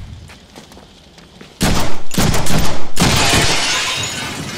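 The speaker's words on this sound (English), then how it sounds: "I'll shoot out the window!" Gunfire blasting out an elevator window in a Deadpool video game: a sudden loud burst of shots with glass shattering, several sharp hits, then a sustained crash and debris noise after a quieter lead-in.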